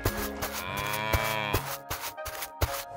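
A cow on a farm lets out a long, loud, close-up moo with a deep droning tone, followed by a few shorter grunting calls, with no one talking.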